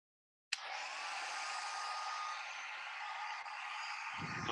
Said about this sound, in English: And I'm going to use my hair dryer.